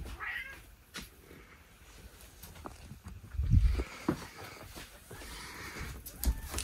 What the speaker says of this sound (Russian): Мелисса, а куда ты потащила котенка?